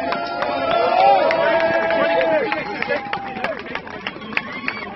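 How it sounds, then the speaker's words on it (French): A crowd at a charity run finish at the Cube in Charleroi claps and cheers for a team, with many rapid handclaps spread across the clip, mid-distance, under a voice and general hubbub. "on peut applaudir toute cette équipe"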